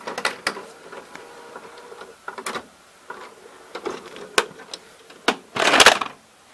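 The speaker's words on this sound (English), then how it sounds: "I'm gonna eject the tape." A GoVideo GV-6010/6100/6150 dual deck VCR ejects a tape with a series of sharp mechanical clicks and clunks, followed by a louder whirring rattle near the end, close and distinct.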